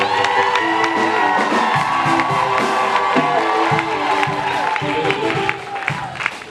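A large crowd at a wedding cheers, whoops and applauds loudly and continuously, with shouts over sustained clapping that fades slightly near the end.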